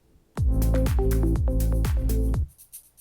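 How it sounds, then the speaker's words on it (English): A shaker layer sits inside an amateur song's drum arrangement, playing about two seconds of steady, loud groove with repeated kicks, a tonal bass line and bright percussive ticks, then cutting off abruptly. "He also had a shaker layer."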